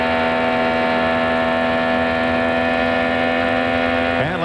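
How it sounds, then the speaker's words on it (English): An IndyCar race car engine heard from onboard at Atlanta Motor Speedway during the 1998 IRL Atlanta 500 Classic, holding a steady loud drone throughout before the pitch dips briefly at the end. "Let's listen for the engine pitch."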